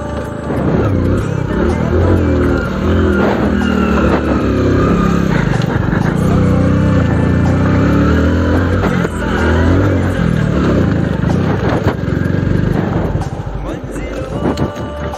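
A rickshaw's engine drones loud and steady as the vehicle drives and works through a tight turn, the rough motor noise filling the whole stretch while people talk over it.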